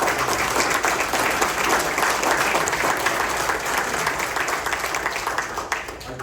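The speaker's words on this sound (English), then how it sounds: "round of applause to our employees" Loud, continuous applause from the audience at a village board meeting, many hands clapping in a thick, unbroken wash that tapers slightly toward the end.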